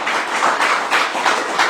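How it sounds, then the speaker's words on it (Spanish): A church congregation claps in a brief, dense burst of applause, rhythmic pulses of hand claps close and loud for under two seconds. "Démosle un aplauso al Señor."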